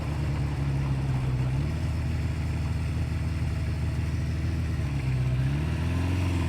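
A 1976 Honda CB550 motorcycle, ridden after decades in storage, runs with a steady droning engine note that rises and falls slightly with the throttle, loud and continuous over wind noise.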